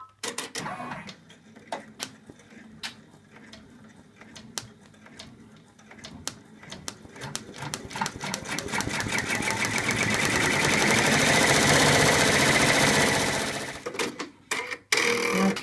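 An embroidery machine stitches the hair of an in-the-hoop elephant design, starting with sparse rhythmic ticks that build into a fast, loud, continuous whir before stopping with a few final clicks.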